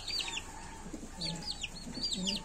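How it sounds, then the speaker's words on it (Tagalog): Hens and a rooster from a fertile red breeding family, with young birds, cluck in a few short bursts over steady farmyard background noise. "Ito yung hen. Ito yung cock."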